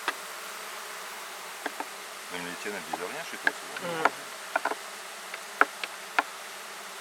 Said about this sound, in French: c'est des abeilles noires, enfin majoritairement noires